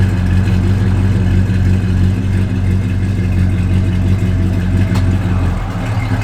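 A 1972 Oldsmobile Cutlass engine with about 5,000 miles on it runs with a deep, steady rumble close by, a mild rise in revs, then a slight dip near the end.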